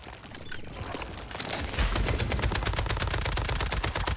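Rapid automatic gunfire from the video game Once Human builds into a dense, loud, continuous burst of evenly spaced shots close by.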